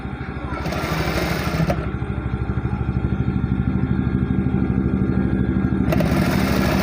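A tailor's sewing machine runs steadily while stitching piping onto a kameez sleeve, giving a fast, even mechanical clatter close by with brief pauses and restarts.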